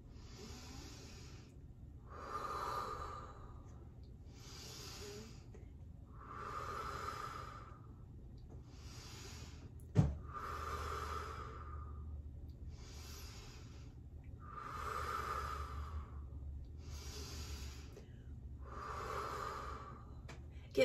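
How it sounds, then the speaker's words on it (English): Slow, deep breathing exercise: about ten long, audible breaths in and out in a steady rhythm, close and fairly soft, with no talking. "So 5 deep breaths, here we go."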